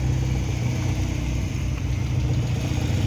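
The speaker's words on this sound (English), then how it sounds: "A peep from the driver there, as the white one departs." A white classic car pulls away from a car meet at the Dovecote Inn in Laxton, its engine giving a steady, close, even rumble throughout, with no talking.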